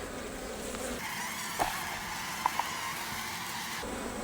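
Honey bees buzz steadily around an opened single deep beehive, a continuous close hum with a few brief louder passes of individual bees near the ear.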